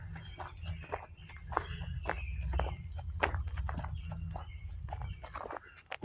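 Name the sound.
footsteps walking on a gravel road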